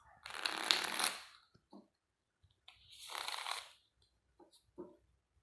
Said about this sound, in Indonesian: Kita shuffle dulu kartunya ya